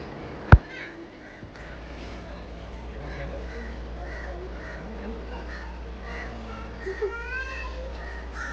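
Birds call at Dehiwala zoo in Sri Lanka, with crows cawing repeatedly at moderate distance over a low ambient hum, a sharp click near the start, and faint background voices.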